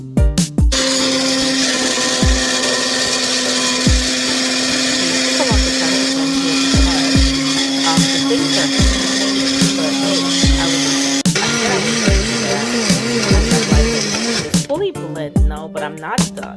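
A blender runs loud and steady, whirring through curry goat ingredients for a Jamaican curry, with its pitch shifting and pulsing near the end as the load changes; no talk over it.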